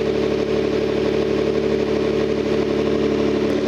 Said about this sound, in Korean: 좋아 엔진 소리.